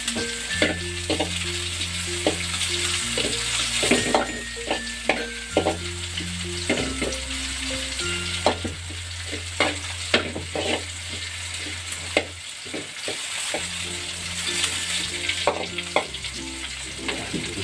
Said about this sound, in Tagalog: Gisa-gisahin natin ng konti.